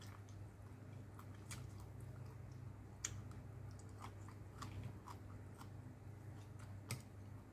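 Someone eating a meal with soft, quiet bites and moist chewing, faint crunchy clicks scattered irregularly over a low steady background hum.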